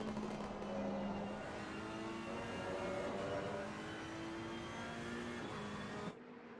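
A Ferrari and a BMW race closely through turn 14 at Misano. Their engines sound as layered, sustained tones that rise and fall together through a corner, near and loud, and cut off abruptly near the end.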